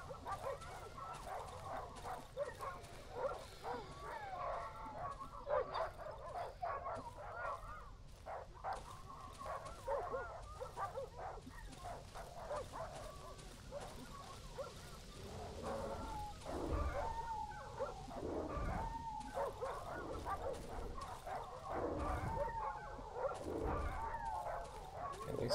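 A pack of dogs barks, yips and whimpers almost nonstop in the survival horror game Darkwood, moderately loud over a dark droning backdrop, with a denser burst of barking toward the end.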